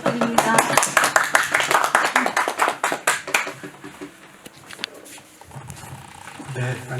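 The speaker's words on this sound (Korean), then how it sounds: "큰 박수 부탁드립니다" A small audience at a Korean credit union history lecture claps to welcome a professor, loud hand claps for about three seconds before fading into room murmur and a voice.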